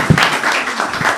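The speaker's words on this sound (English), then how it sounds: "So at least the least you can do is to clap for her." Audience clapping for a guest speaker at a university Brown Bag Wednesday session, a dense burst of applause that fills the hall for about a second.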